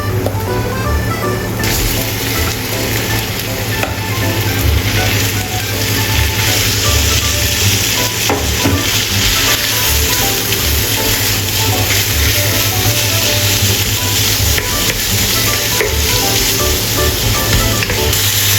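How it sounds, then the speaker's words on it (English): Minced meat stir-frying in a hot wok with chopped garlic for Thai pad krapao, giving a loud, steady sizzle and hiss that runs continuously with no talking. "Add minced meat and stir-fry until cooked."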